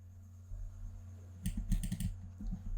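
A mouse being double-clicked while working in Photoshop: quick paired clicks and a short run of clicking, close up and moderate in volume over a steady low electrical hum.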